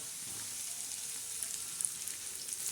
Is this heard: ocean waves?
no